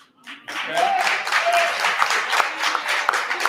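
Applause breaks out at a Dolton board meeting after Nate Fields is praised, a fairly thin round of many hands clapping steadily at moderate loudness, with some murmured voices underneath.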